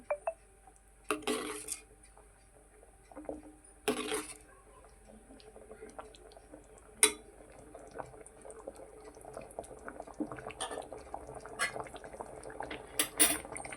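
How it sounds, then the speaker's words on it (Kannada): Village-style mango curry being stirred in a cooking pot, with intermittent spoon scrapes and clinks against the metal in short bursts over a quiet, faintly bubbling background. "ನಾನು ಚೆನ್ನಾಗಿ ಮಿಕ್ಸ್ ಮಾಡ್ತಿದ್ದೀನಿ"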